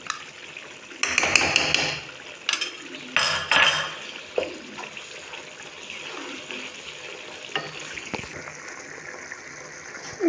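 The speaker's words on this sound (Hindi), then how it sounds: "अब मैं इन चावलों का पानी निकाल दूँगी, कुछ छान लूँगी" Soaked rice for chicken biryani is drained through a strainer, with water splashing and running alongside metallic clinks of a pot and utensils, close by and moderately loud, easing into a softer trickle.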